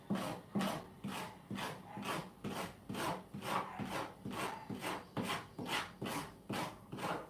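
A tool scrapes halibut meat in steady back-and-forth rasping strokes, about two per second, close and fairly loud with no talking.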